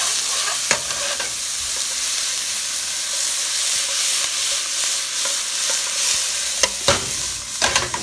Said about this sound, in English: you just want the onions to caramelize